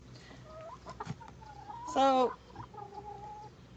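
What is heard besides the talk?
chickens clucking at a farm sanctuary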